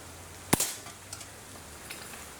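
A single crisp pop from an SS2 air pistol, a Feinwerkbau 65 clone, fired close by and followed by a brief faint rattle and small clicks in a quiet room.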